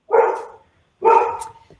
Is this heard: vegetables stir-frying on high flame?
no